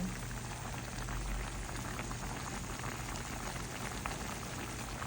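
Rain falling around an outdoor dirty kitchen on a stormy day: a dense, continuous hiss of steady rainfall, uniform and unbroken throughout, with no voices.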